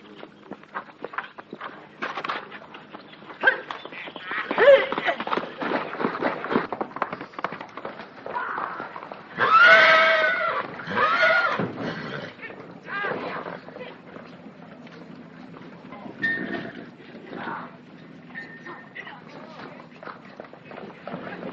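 Hooves clatter and thud as horses run past, with a loud whinny midway and people talking over the clatter.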